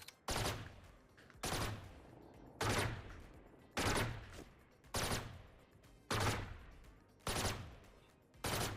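Killjoy's turret in Valorant firing in a steady rhythm, eight loud sharp bursts spaced about a second apart, each with a decaying tail, heard alone without talk.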